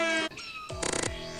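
A cartoonish cat meows in the video game Meme Dodger: a long bright meow followed by a second meow, then a rapid stuttering repeated meow, loud and alone with no talk.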